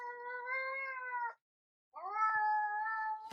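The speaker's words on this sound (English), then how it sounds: "your cat making this sound when they're interacting with you" A cat gives two drawn-out, nasal meows close by, separated by a short silence, with a small click at the end.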